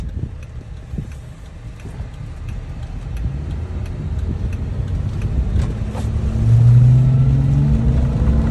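A 2014 Jeep Wrangler on 24-inch wheels and 37-inch tires drives along with a steady low engine and road rumble heard from inside the cab, swelling toward the end as it speeds up.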